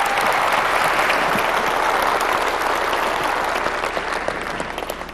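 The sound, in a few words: audience applause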